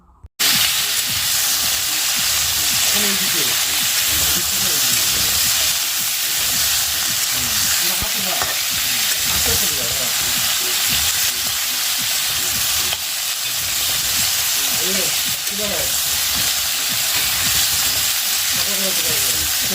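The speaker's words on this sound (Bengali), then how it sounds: "এই যে দেখতে পাচ্ছ কষ আলুটা ভেজে নিলাম" Potatoes frying and being stirred in a pan in a home kitchen, a steady close sizzle with scraping and stirring clatter running continuously throughout, no talk over it.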